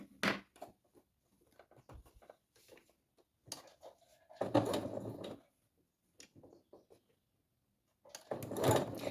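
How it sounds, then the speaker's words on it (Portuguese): A sewing machine stitches close to the fold of a baby-blanket fabric hem in short, close bursts of whirring, with two main runs separated by quiet handling and faint rustling. "nós vamos passar uma costurinha bem aqui, bem próximo aqui à dobra do tecido"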